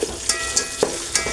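Soaked whole spices such as cloves and cinnamon fry in hot oil for tomato rice under a continuous crackling sizzle, broken by four or five crisp spatula clinks at a brisk, fairly regular rhythm.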